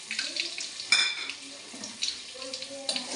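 Bay leaf, panch phoron and a pinch of sugar frying in hot oil, a soft crackle broken by a few clinks and scrapes of a spoon stirring in the pan, close and fairly quiet.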